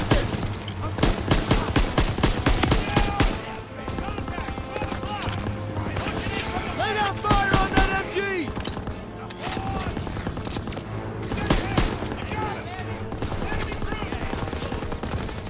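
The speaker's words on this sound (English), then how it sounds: "Suppressive fire!" Sustained machine gun suppressive fire from the Call of Duty WW2 video game, loud rapid bursts overlapping with other gunfire in a busy battle, with voices shouting in the mix.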